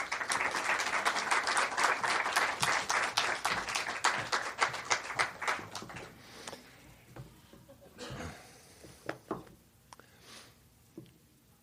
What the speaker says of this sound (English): let's give a round of applause to David Chorlton.